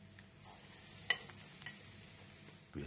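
Apple fritters cooking in hot oil, a faint steady sizzle with a couple of light clicks and a soft knock near the end.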